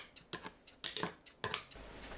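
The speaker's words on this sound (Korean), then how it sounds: "유자청 건더기를 가위로 잘라주세요." Scissors snip through sticky candied yuzu pieces in a kitchen, a series of short, close, crisp clicks and snips in an uneven rhythm with no talking.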